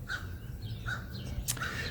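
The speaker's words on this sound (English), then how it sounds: "I don't know if you can hear that crow right now." A crow caws several times outdoors, harsh calls spaced roughly evenly, moderately near against a quiet background.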